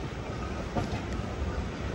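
Jan Shatabdi Express with LHB coaches rolling slowly between Vijayawada and Chennai past banana plantations, a steady low rumble and rattle of wheels on track with a faint squeal partway through, continuous and close.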